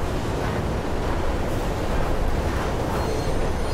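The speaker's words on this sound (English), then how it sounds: "There's a train coming behind you." A subway train in the video game Mirror's Edge, rumbling through a tunnel as a loud, continuous broadband roar with no clear breaks and no speech over it.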